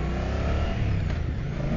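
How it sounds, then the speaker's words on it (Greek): Moto Guzzi Stelvio twin-cylinder motorcycle engine revs with a deep, continuous rumbling exhaust, loud and close, with no voices over it. "Αυτός είναι ήχος, παιδιά. Δικύλινδρο τράβηγμα, γουργουριτό, σκασίματα στην εξάτμιση"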